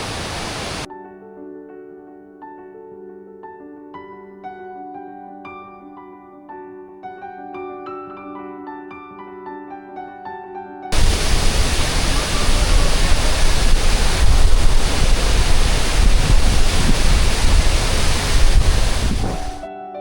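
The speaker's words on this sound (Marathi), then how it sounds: "दोन्ही धबधब्यांच्या बाजूनं मोठे मोठे ओढे वाहत आहेत पाणी प्रचंड वेगानं वाहतं आहे" Music plays at first, then a loud, dense roar of fast-flowing streams rushing over rocks beside a monsoon waterfall in the ghats fills the rest, steady and close.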